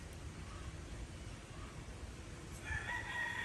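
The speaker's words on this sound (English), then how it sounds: "And the rooster, and the birds." A rooster crows from some distance near the end of a windy morning in an orchid garden, over steady low background noise and ambience.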